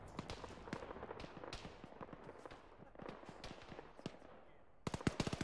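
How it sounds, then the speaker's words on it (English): Far-off gunfire crackles in an Arma military game as irregular sharp shots and short bursts, faint and distant, ending in a quick rapid volley, with some speech in the background. "I also hear them shooting like crazy"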